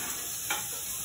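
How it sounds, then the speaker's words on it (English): Bacon sizzles and crackles in a pot while being stirred, a steady fry with one brief louder swish partway through, close and moderately quiet, with no talking. "Nice sizzle going there."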